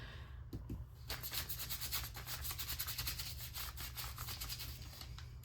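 A junk journal cover is distressed by hand, with quick repeated scuffing and sanding strokes rasping against the surface in a steady, close rhythm, alone without speech.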